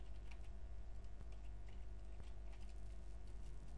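Commands being typed on a computer keyboard while setting up SQL*Plus output, a steady patter of soft key clicks over a constant low hum, with no voices.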